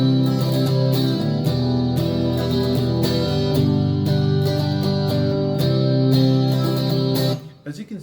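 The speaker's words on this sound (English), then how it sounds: "this guitar pattern will sound pretty cool with it." Electric guitar pattern for a cover of a song, played over bass, synth and drums, with dense repeated chords and quick rhythmic figures sustaining loudly for several seconds before cutting off near the end.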